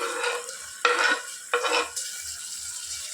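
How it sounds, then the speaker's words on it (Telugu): Chopped tomatoes fry and sizzle in a pan over the sound of onions already cooking, with two short bursts of stirring against a soft, steady background hiss. "టమాటాలని బాగా ఫ్రై చేసుకోవాలి"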